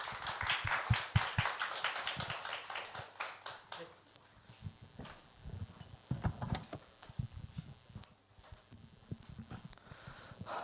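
Audience applause in a church youth worship service as the pastor comes forward: scattered, uneven clapping that starts fairly strong, thins out, then swells briefly again, with some voices mixed in.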